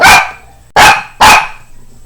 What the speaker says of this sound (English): I think there's like a dog or something across the street making weird noises